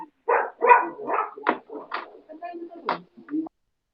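Dogs bark in a home, a run of close, fairly loud yaps and woofs in an irregular burst lasting a few seconds before stopping.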